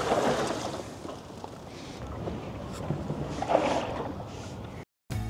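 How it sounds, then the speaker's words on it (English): Water sloshing inside the hard lid of a Roofnest Condor rooftop tent, an irregular washing, swishing noise with rustling surges, heard close against a windy background, with a brief cut near the end. "You can hear water sloshing around in this hard lid."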